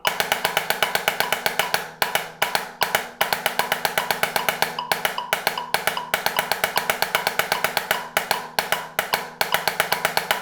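A drum kit plays a triplet timing exercise: a steady stream of rapid, evenly spaced hits over a sustained tonal backing, broken by a few short pauses, loud and close throughout.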